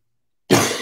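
A person coughs once abruptly after a moment of silence, a close, harsh burst that trails off.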